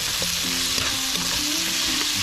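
Tomatoes hit a hot pan in a backyard cooking setup for pork binagoongan, setting off a steady, loud sizzle with scraping stir strokes and faint tonal hum underneath, continuous and close.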